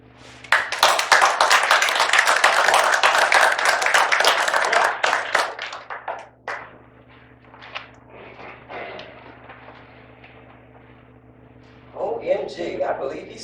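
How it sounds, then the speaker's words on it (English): A room full of people breaks into dense, loud applause that holds for about five seconds, then thins into scattered claps and fades, followed by a voice speaking near the end. "let's give him a round of applause, everybody"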